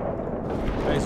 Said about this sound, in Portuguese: O tiro tá vindo de lá.